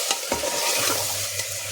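Mutton keema browning with ginger garlic paste in oil, a loud dense sizzle close up with a steady scraping stir running throughout and a couple of quick utensil taps.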